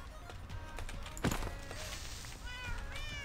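A cat meows in Minecraft, one clear short meow in the middle over a faint background, with quiet game noises around it.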